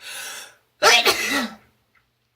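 One forceful sneeze up close, a sudden harsh burst trailing into a brief voiced tail, with quiet breathing before it.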